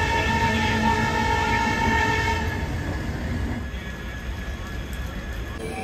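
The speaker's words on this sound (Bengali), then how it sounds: "ট্রেন এখন ছুটছে" A passenger train travelling from Shalimar toward Balasore in India rolls steadily along the track, a loud continuous rumble with a faint tonal whine running throughout.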